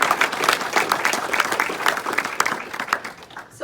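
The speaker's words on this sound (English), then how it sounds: "Another round of applause for our PR" An audience at a celebration for a long-serving employee at Cary Medical Center applauds the PR team, a steady, fairly close wash of many hands clapping that tapers off near the end.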